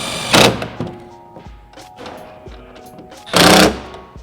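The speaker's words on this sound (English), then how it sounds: "we're going to go through and tighten these bolts" Bolts being tightened on a steel rocker guard fitted to a Jeep JK, with two loud bursts of ratcheting or impact-tool noise at either end and softer clunks and tool handling in between.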